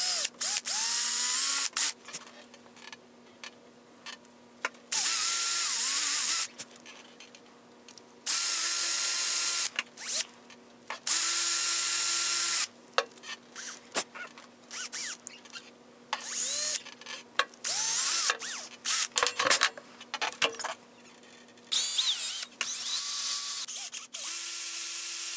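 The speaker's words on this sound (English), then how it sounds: "I'm gonna use a 3/16 bit in the front, and I'm going to use a smaller bit in the back." A power drill bores holes through a wooden musky lure body with 3/16 and smaller bits, in loud high-pitched whining bursts of drilling separated by quiet pauses and handling clicks.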